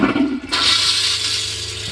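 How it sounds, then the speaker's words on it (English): A 2021 Isata 5 smart toilet flushing: a quiet click and brief murmur, then a sudden loud rush of water at about half a second that surges and holds strongly to the end. "you have a number 1 flush and a number 2 flush"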